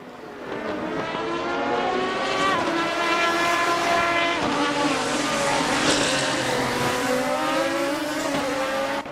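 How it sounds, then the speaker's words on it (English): Lamborghini engine in the racing game Assetto Corsa, a loud sustained high-revving wail with rising and falling harmonics as the car sweeps past, steady and close throughout. "unmistakable sound of the Lamborghini"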